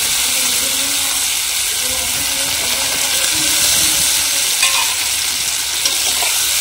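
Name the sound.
potato and eggplant frying in spice paste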